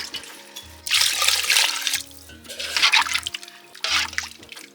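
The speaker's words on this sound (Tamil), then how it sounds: "தேவையான அளவு தண்ணி ஊற்றிக்கலாங்கண்ண" Water pours in three separate bursts, splashing and sloshing into a cooking pot for goat gravy, with short pauses and faint clinks between pours.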